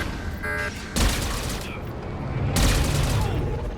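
Blaster gunfire in Star Wars: The Old Republic, loud bursts of shooting that hit sharply at the start and again near the end over steady battle noise.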